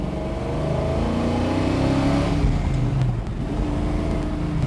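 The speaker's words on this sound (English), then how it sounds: "going for a ride in our 1967 Mustang Fastback" A 1967 Ford Mustang Fastback with an FE engine and solid roller cam drives along, its loud engine rising in pitch as it accelerates, then easing back and holding a steady rumble from close by.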